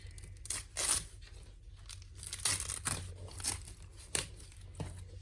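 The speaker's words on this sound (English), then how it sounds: "I'm going to grab the seam ripper." A seam ripper tears stitches on a zipper bag made on an embroidery machine, giving repeated close, sharp ripping bursts with short pauses between them.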